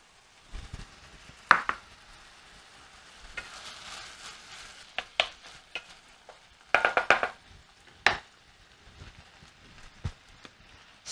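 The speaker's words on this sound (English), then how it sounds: "Now I'm just going to add some onion. So this way that can start frying as well." Onion added to a pan of meat for a Finnish macaroni casserole, sizzling softly, with intermittent scraping and stirring clatters of a utensil against the pan, close and fairly quiet.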